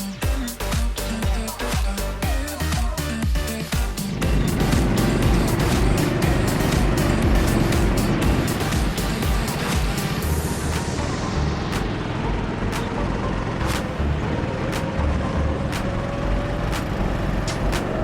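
A go-kart races around a track in Aruba, its small engine roaring loudly and steadily close by with rising and falling pitch through acceleration and turns, and rushing wind noise throughout.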